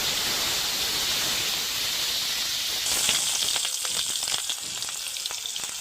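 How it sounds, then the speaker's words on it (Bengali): Pieces of potol (pointed gourd) and potato fry in leftover fish-frying oil, a steady loud sizzling hiss that flares up brighter partway through as the pieces settle into the oil, with no voices. "এর মধ্যে পটল আলুটা আমি একটু ভেজে নেব"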